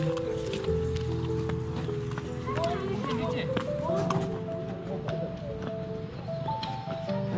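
Horse hooves clip-clop on a pony ride on a mountain trail at Patnitop, a light irregular patter heard under steady nearby conversation and outdoor ambience.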